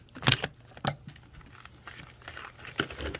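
Packaging for engine bearings in a K24 build is cut and pulled open, giving sharp crinkling bursts of plastic followed by softer rustling and snipping, close and fairly loud, without talk.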